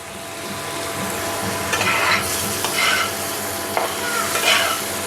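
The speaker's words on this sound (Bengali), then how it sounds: "1 মিনিটের মতন আমি নাড়াবো। দিয়ে দিচ্ছি 1 চামচ হলুদ।" Papaya and mixed vegetables stirred with turmeric in a hot pan for a summer shukto, a steady sizzle with scraping spoon strokes rising and falling across the clip, close and fairly loud, no talking.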